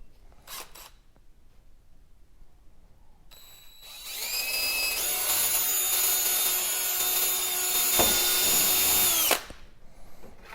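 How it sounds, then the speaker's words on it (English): A power drill bores a hole through the plastic hull of an Old Town Sportsman PDL kayak for scupper plugs, a near, loud whine that spins up after a quiet start, runs steadily for several seconds, then cuts off. "mark where you need to drill the hole to add the scupper plugs"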